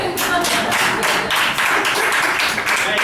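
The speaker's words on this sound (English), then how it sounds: "Clap for the Jews, they deserve it." A comedy club audience at Broadway Comedy Club claps in a steady burst of applause, sustained and fairly close, filling the room for a few seconds without speech.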